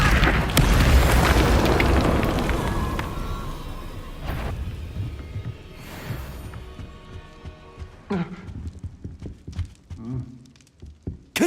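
The Confringo fire spell in the video game Hogwarts Legacy bursts with a loud, rumbling boom that slowly fades across several seconds, and scattered softer pops and impacts follow as the rumble dies away.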